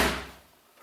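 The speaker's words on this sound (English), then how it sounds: "When you close it, you must close this door in order to have that" The door of a Haier HB17FPAAA side-by-side no-frost fridge shuts with a single soft, dull thump that quickly fades into quiet.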